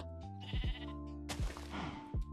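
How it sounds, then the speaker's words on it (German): A baby sheep in the Minecraft video game bleats three or four times in quick succession, each bleat short and wavering, sounding clear and alone. "Yay, wir haben ein Babyschaf."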